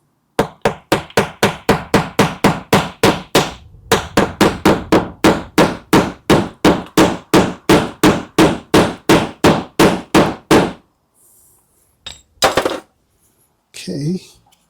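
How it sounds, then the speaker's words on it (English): A hammer taps a glued wooden dowel into a hole in a door, about thirty sharp, evenly spaced close blows, briefly paused once, then a few scattered knocks after the hammering stops. "And this is where the hammer comes in."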